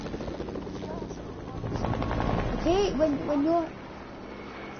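A video game helicopter drones with a rapid rotor chop while people talk over it, a brief swell of game effects midway.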